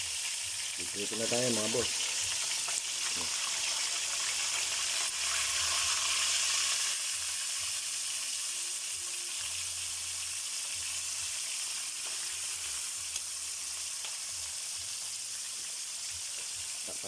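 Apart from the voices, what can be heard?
squash (kalabasa) being added and sautéed in a pan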